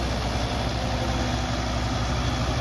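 An International 1256 tractor engine idles at a show with a steady low rumbling throb that stays constant and close, heard alone with no talking.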